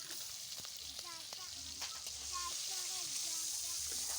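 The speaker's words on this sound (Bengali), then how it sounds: "এবারে এর মধ্যে চিংড়ি মাছগুলো দিয়ে একটুখানি ভেজে নেব।" Prawns frying in hot mustard oil in a wok, a steady sizzle running throughout beneath a speaking voice, with a few faint scrapes of stirring.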